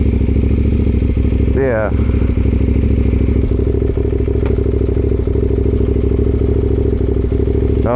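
A CFMoto Ibex 800T adventure motorcycle idles loudly and steadily up close, engine rumbling throughout as it pulls off and stops, with a short spoken word and a brief clatter.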